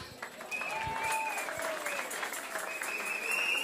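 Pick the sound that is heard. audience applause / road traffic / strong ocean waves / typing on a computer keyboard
audience applause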